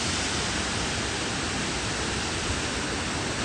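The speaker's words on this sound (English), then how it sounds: "Check it out, Gibbon Falls. They're falling. That's a lot of water." Gibbon Falls in Yellowstone-area country roars as heavy water pours down, a dense, steady broadband rush close by with no pauses.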